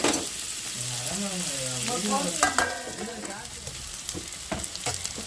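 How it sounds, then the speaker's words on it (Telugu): Onions fry in a pan for an okra (ladyfinger) masala curry, a close, steady sizzle with repeated stirring scrapes and clatter, while a voice speaks briefly near the start. "ఆనియన్స్ అయితే ఫ్రై అయినాయి మీడియం ఫ్లేమ్లో పెట్టుకుందాం"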